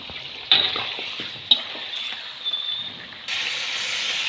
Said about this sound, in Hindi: चिकन को आपने हाई फ्लेम पे अच्छे तरीके से फ्राई करना है ताकि ये गोल्डन फ्राई हो